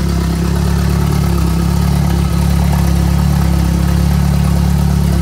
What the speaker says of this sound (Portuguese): O barulho de motor turbo é muito bonito